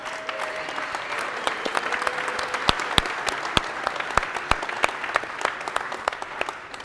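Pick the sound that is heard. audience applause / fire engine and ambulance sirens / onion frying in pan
audience applause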